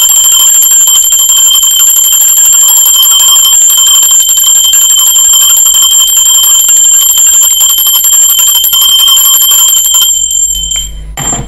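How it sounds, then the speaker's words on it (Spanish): A bell rings steadily with a bright, sustained metallic tone that fills about ten seconds, loud and alone with no talk, then fades out at the end. "así que va campana"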